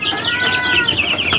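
Three-week-old AKA and Joper chicks cheeping and clucking close by, a busy overlapping chatter of high chirps with no speech.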